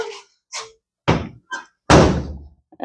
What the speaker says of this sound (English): How does this door shut?